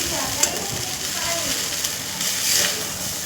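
Fried rice stirred in a wok, a steady close hiss of frying with scraping stir strokes throughout, no speech over it.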